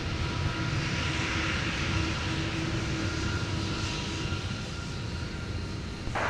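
An airplane at Minneapolis–Saint Paul (Twin Cities) airport gives off a steady, broad engine roar that holds throughout, moderately loud and continuous with no talk over it.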